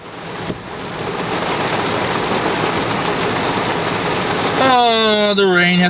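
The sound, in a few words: rain falling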